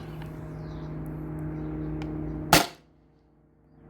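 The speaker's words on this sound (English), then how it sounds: "This is the third shot on the same CO2 with the same balls." A Beeman BP50 CO2 air pistol fires a single 12.3mm, 7.6-gram steel ball: one sharp, close crack over a low steady hum, then near silence.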